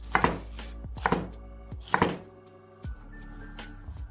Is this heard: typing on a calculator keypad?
no